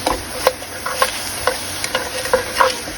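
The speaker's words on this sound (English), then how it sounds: "I'm adding a can of lentils to the pork because I don't like to be short on meat" Pork frying in a pan with a can of lentils going in, giving a steady soft sizzle broken by scattered clicks and scrapes of stirring, close and moderately loud, with no talking.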